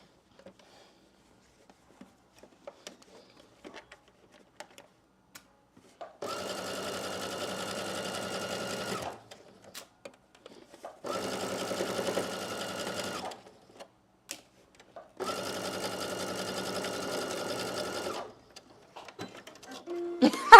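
Sewing machine running three sustained bursts of stitching along the side seams of a slip dress, each lasting a few seconds, separated by short pauses with faint handling noises.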